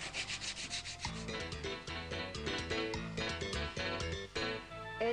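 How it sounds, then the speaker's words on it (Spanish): A wooden magazine rack's edge is sanded lightly by hand to remove burrs, with quick, rhythmic rubbing strokes, fairly soft and close, with no talking. "Vamos a dar una lijadita suave para matar el canto y quitar estas rebarbas."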